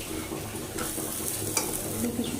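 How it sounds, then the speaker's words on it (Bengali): Fish and sesame fritters fry in a pan with a busy, continuous sizzle, and stirring scrapes sound close by throughout. "এই যে মাছটা হচ্ছে আর এদিকে যে তিলের বড়াগুলো রেডি করছি।"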